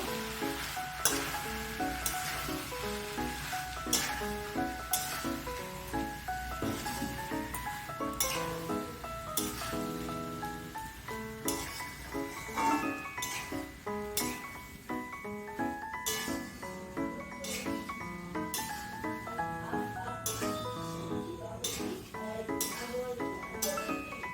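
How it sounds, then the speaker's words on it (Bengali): Boiled peas and potatoes are stirred together in a pan for ghugni, with soft sizzling and repeated clinks of a spoon against the pan, faint beneath steady background music. "এতে আমি সেদ্ধ করে রাখা মটর ও আলুগুলো দিয়ে দিব। সব কিছু একসঙ্গে মিশিয়ে নিব।"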